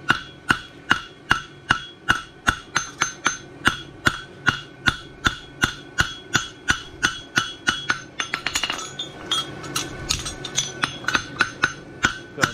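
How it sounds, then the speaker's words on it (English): A hammer strikes a bar shoe horseshoe on the anvil horn in a steady, rapid rhythm of ringing metallic blows, loud and close, with scraping and clatter mixed in near the end. "still hitting square on the horn with your hammer"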